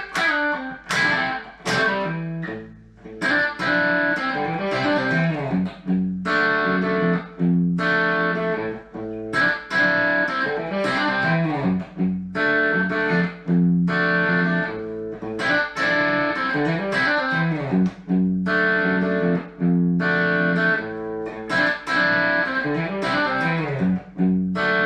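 Distorted electric guitar strums rhythmic chords through heavy effects, loud and continuous with choppy bursts and short gaps throughout.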